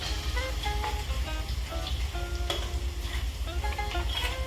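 Garlic sizzling in hot oil in a pan, a continuous bright crackle with scattered pops and faint stirring, heard alone at moderate level.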